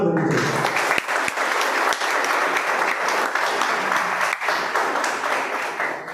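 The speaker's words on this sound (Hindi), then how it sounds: "ताली उनके लिए जोरदार बननी चाहिए।" Audience applause fills the hall, a dense, steady wash of clapping from a large crowd that stays loud throughout with little variation.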